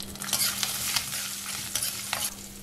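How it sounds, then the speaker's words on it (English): Dal fries in a pan with turmeric, green chilies and grated raw mango, a continuous close sizzle broken by light stirring scrapes and soft clicks, no one speaking. "Saute for 4 to 5 minutes."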